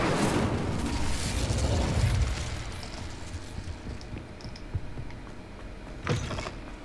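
An Incendio fire spell cast in a Harry Potter wizarding video game, a loud fiery whoosh and burst at the start fading into a crackling tail, with a later sharp pop, no voices.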